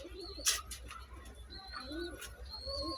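A pair of silver pigeons coos softly in a loft, low murmuring calls recurring through the clip with a brief sharp rustle near the start and faint background noise.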